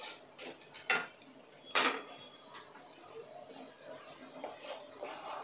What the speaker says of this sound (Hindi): हम इसको अभी अच्छा सा मिक्स कर लेंगे।